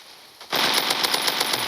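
A rapid automatic-weapon burst in the mobile shooter game Strikops starts after a short quiet moment, firing loud, evenly spaced shots close by.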